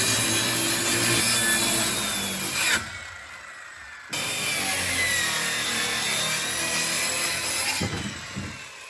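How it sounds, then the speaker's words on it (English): A Skil circular saw cuts through plywood, a loud buzzing rip that runs continuously, pauses briefly for a second or so, then resumes cutting to the end with a short dip near the finish; no speech. "That skill saw, well, it's a real skill saw too. It's like the Skill brand."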